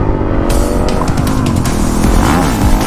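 A Honda CRF 450L motorcycle rides in second gear, its engine roaring loud and close with a rising and falling pitch as the throttle varies, heavy wind buffeting throughout.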